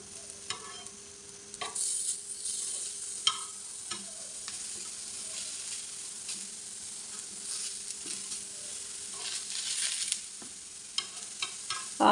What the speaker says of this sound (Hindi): आपने भी ऐसे ही उल्ट पलट के इन्हें फ्राई कर लेना है।